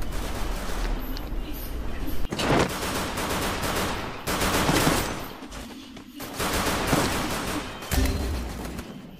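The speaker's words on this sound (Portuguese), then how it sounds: "Olha lá, já tá levando um tiro." Rapid bursts of video game gunfire crackle in repeated waves, loud and close, with brief lulls between volleys.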